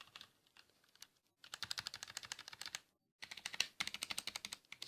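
Rapid clicky typing on a Motospeed CK104 RGB mechanical keyboard with red switches, close and crisp, in two dense bursts of keystrokes separated by brief pauses, with no voices.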